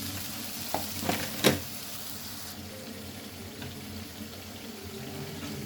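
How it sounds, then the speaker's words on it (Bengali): Spices sizzle and fry in a pan while being stirred, with a steady sizzling bed and a few louder scraping stir strokes early on, close and with no talk. "পানি দিয়ে মশলাটা কষিয়ে নেব ভালো করে।"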